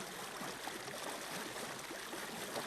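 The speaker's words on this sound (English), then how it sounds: "Mountain streams alternate with gently flowing meadowland brooks on the lowland plains." A mountain stream in rainy, mountainous Japan, a continuous broadband rush of flowing water, steady and moderately close with no voices.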